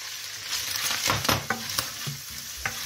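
Squid finishing in a pan of hot olive oil with chopped garlic and parsley, steady sizzling with a few scraping stirs of a utensil, close up and without talk.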